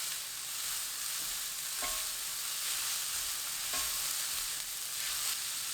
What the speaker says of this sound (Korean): 팬에 올리브유 2큰술, 당근 넣고 센 불로 2분 볶아주세요.